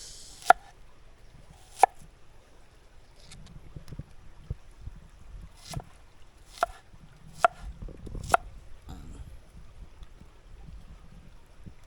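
Sharp knife strokes chopping onion on a board for a calamansi dipping sauce: about seven distinct, separated chops spread unevenly over several seconds, close and crisp, with no talk.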